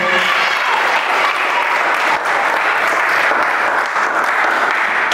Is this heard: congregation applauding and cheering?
yes